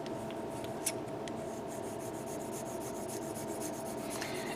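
Light, continuous rubbing as a 1/72 Bandai Mailes Kenbu model part is sanded and buffed under gentle pressure, a soft steady rasp with a few small ticks, close up and alone.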